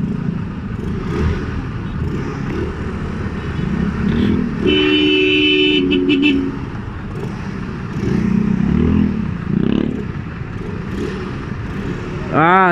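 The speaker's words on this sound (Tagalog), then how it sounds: "Yan, sobrang traffic mga idol." Steady roar of congested road traffic with engines idling and revving, a car horn sounding a sustained honk partway through, voices faintly mixed in.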